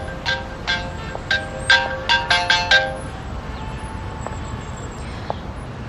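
A phone ringtone plays in a melodic burst of bright tones over steady background noise, repeating in short phrases for about three seconds before fading out.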